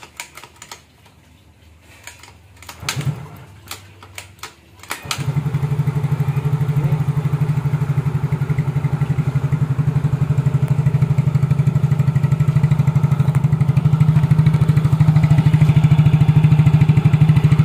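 A Yamaha Mio J scooter's small engine is started after a few clicks and cranking attempts, then settles into a steady, close, buzzing idle that continues for over ten seconds, no talking.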